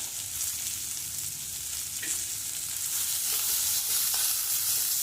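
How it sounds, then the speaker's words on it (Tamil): Vegetables sautéed with salt in a pan sizzle continuously up close, with a few soft stirring scrapes over a steady frying hiss. "கொஞ்சம் உப்பும் போட்டு வதக்கணும்."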